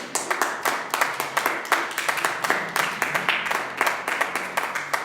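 A church congregation claps for the Lord in a steady, rhythmic unison beat, loud and close, the claps falling in a regular pulse that continues evenly throughout.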